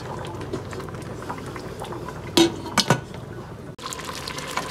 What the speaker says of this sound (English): Now I'm going to cover this and let this cook until the potatoes are soft